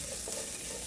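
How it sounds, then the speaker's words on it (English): Curry leaves and masala dosa filling sizzle briefly in a hot oiled pan, a faint, steady hiss with soft crackles and splatters, no voices. "You can hear the sizzle. You can see the splattering."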